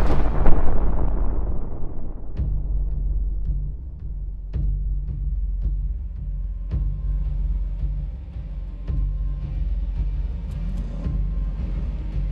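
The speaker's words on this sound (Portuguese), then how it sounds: "eu vou atirar naquele blocão de concreto ali" A 7.62 rifle is fired at a concrete block outdoors: one loud blast opens with a long, decaying rumble, then scattered fainter clicks and taps follow.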